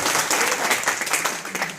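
Loud, dense applause from a crowd at a Hindi-speaking women's empowerment gathering, sustained and steady throughout with no voices over it.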